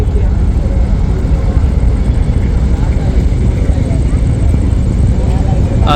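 A Manami passenger launch's engine runs in reverse gear amid a crowded river launch terminal, a steady loud low rumble throughout with people talking in the background.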